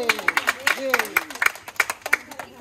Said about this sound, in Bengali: এই হাততালি হবে